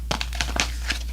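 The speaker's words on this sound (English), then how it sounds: "So let's shuffle more cards." Tarot cards being shuffled by hand, a quick run of soft papery riffles and crinkly slaps over about a second, close and moderately quiet.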